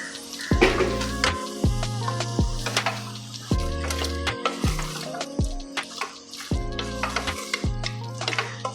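Three-quarters of a kilo of beef sizzling in a hot pan for a Kerala-style beef chaps, with repeated stirring scrapes and a constant frying hiss under a bed of rhythmic background music.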